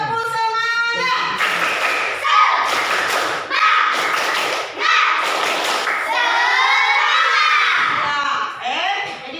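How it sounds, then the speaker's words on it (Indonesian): A class of children in an Indonesian religious education lesson repeating the tepuk semangat clap routine, with several loud rhythmic clapping bursts and thuds interleaved with shouted chanting and a teacher's speech nearby. "Tepuk semangat."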